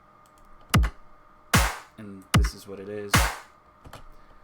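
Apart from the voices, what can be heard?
simple electronic drum pattern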